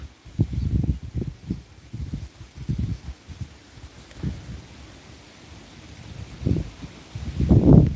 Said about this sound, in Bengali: প্রচুর বাতাস হইতেছে